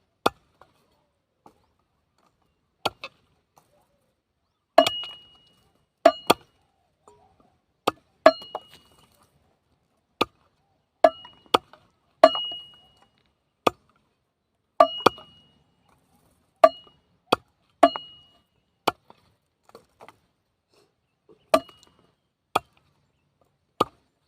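Sharp, irregular knife chops strike cassava stems against a hard surface, some in quick pairs, with faint clinks between them and quiet pauses.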